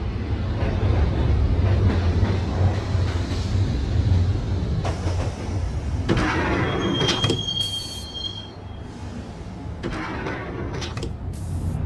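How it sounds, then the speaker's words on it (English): Subway train in the Max Payne video game riding along rails toward Roscoe Street Station, with a steady loud rumble, sliding door thuds and a brief high metallic wheel squeal partway through. "the train doors had already shut behind me, and I was in for the ride"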